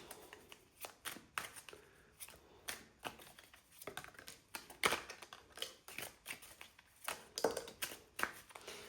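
A deck of cards being shuffled over and over, a rapid run of crisp riffling bursts and soft slaps close by, with no talking.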